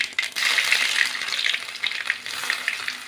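Mustard seeds hit hot oil in a pan, giving a dense, continuous close sizzle dotted with sharp crackling pops that keeps going throughout.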